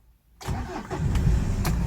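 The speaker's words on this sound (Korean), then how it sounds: "시동을 한번 걸어 보겠습니다" A truck engine cranks and catches after a moment of silence, then settles into a loud, steady running rumble close by.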